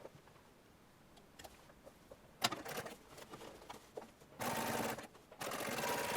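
A sewing machine runs in two steady bursts near the end, double top-stitching the shoulder seams of a shirtwaister dress, after a stretch of quiet handling noises.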